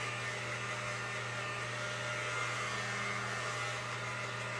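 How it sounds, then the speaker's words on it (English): A heat gun drying a dry-brushed layered paint finish: a continuous, even blowing whir with a steady low hum, close and unbroken throughout. "Now you don't want to leave this heat gun directly on an area for too long, because it will make your paint bubble."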